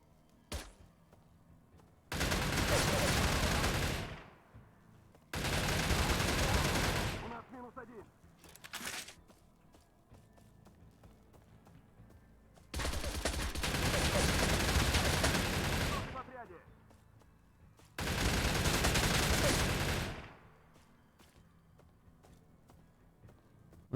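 Bursts of automatic gunfire in the video game StalCraft, five long sustained volleys separated by short pauses, loud and close.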